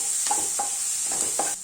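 Kashmiri chili powder being stirred in a hot pan, a soft steady sizzle broken by three or four quick scraping strokes of the spoon, close and fairly quiet.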